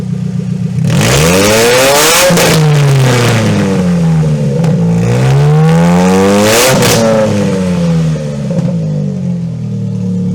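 A loud, close race car engine revs up and down repeatedly, its pitch sweeping high and low over several seconds with a raspy, clattering roar, with a dead spot in the revs while the engine is cold.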